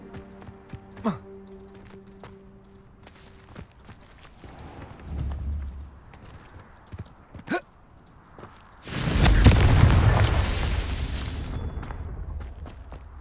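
Confringo fire spell detonating in Hogwarts Legacy: a loud, broad explosive burst that swells and then fades over several seconds, with scattered smaller impacts and thuds before it.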